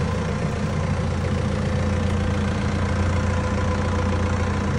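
Diesel engine of a 2019 BMW 420D M Sport idling steadily at close range, a loud, constant low rumble with a slight knock, no talking.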